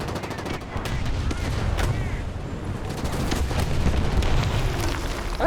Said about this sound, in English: An actual bomb.